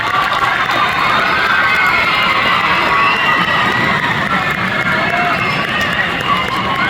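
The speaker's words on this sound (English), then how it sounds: "Let's give a big round of applause to Strolling Strings." Cheers and applause rise from a crowd at an elementary school 4th and 5th grade orchestra concert, a loud, continuous wash of excited shouting and clapping from many children and adults.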